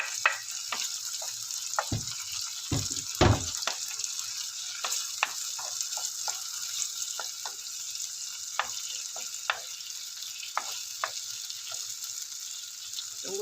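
Salted fish sizzles and fries in a pan over a steady hiss, with scattered sharp pops and a few louder clatters of stirring early on, no talk.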